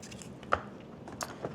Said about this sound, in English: If you hear crunching in the background, that is my dog, Bella.